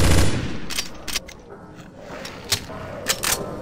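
Rapid gunfire in the Counter-Strike Source Zombie Escape mod, a burst of shots at the start followed by scattered sharp cracks of automatic fire over a low background hum.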